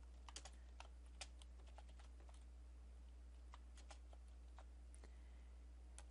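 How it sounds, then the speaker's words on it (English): Rapid, clacky typing on a loud computer keyboard, keys striking in irregular bursts over a low steady hum. "Sorry for my loud keyboard."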